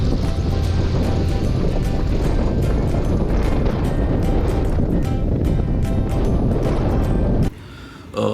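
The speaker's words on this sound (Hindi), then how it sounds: "हवा भी बहुत ज़ोर से चल रही है" Loud, roaring high-altitude wind at Nathula Pass, Sikkim, buffets the microphone nonstop while riding a Royal Enfield Himalayan motorcycle, gusting hard for most of the clip before briefly dropping away near the end.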